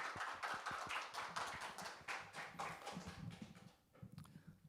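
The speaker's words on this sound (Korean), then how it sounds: "우리 TNK 월드께 큰 박수로 한번 맞이해 주시면 감사하겠습니다" An audience at a humanities concert applauds to welcome performers, a quick run of claps that thins into scattered clapping, with faint murmurs and movement underneath as it winds down.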